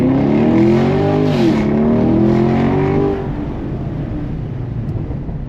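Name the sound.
Chevrolet Camaro LT1 accelerating hard on a drive pass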